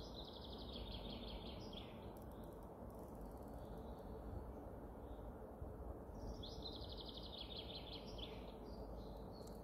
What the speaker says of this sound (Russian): Каждое утро наши птицы